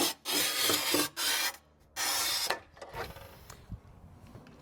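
Harsh rasping scrapes in three long strokes as a tile cutter scores porcelain tile, loud and close, followed by quieter clicks and knocks.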